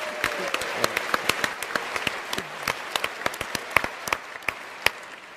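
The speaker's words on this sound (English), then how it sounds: "you all deserve a round of applause" An audience at a public science debate applauds: sharp, sparse hand claps ring out near and far over a soft crowd bed, continuing for several seconds.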